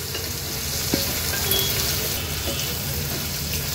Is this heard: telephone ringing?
no